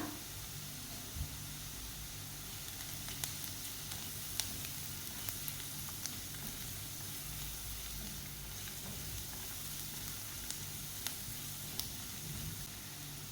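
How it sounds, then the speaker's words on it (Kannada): Curry leaves fry in hot oil for a curd curry, a soft, even sizzle running the whole time with occasional tiny pops and ticks, fairly quiet and with no talk over it. "ಜೊತೆಗೆ ಸ್ವಲ್ಪ ಬೇವು ಸೊಪ್ಪನ್ನು ಹಾಕ್ಕೊಂಡು ಚೆನ್ನಾಗಿ ಫ್ರೈ ಮಾಡ್ಕೊಳ್ಳೋಣ"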